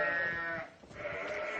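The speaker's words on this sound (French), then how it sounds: "On va voir ces moutons." Sheep bleating up close on a farm, one loud wavering bleat followed by another, clear and alone with no talk.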